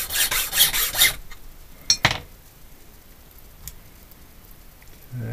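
Metal file rasping grooves into a hand-cut key, a few quick close rubbing strokes at the start, then a couple of sharp metallic clicks and quiet handling noises.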